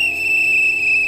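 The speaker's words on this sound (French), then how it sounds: "Il faut donner un coup de sifflet, je vous assure!" A whistle blown in one steady, piercing tone that holds for about a second, loud and close, with no talk over it.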